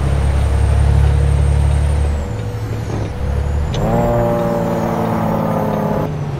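A Freightliner Century truck in American Truck Simulator runs with a steady low engine drone, then its engine brake kicks in as a loud, rising, buzzy harmonic roar that holds for several seconds on a downhill stretch.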